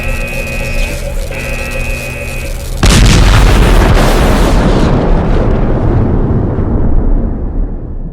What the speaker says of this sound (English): You've destabilized the energy core. It's overcharging. Let's get the hell out of here. This thing is going to explode.